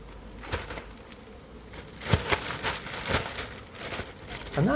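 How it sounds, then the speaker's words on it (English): Buzzing of a new honeybee swarm pouring out of a hive, a continuous insect drone that grows louder and busier toward the end, with scattered crackly bursts layered over it and no speech. "Another loud buzzing sound."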